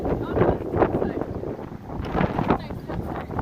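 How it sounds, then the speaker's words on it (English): Strong gusts buffet the microphone beside a lake on a hiking trail, a loud low rumbling roar that swells and dips throughout, with a voice speaking over it. "Crazy wind today."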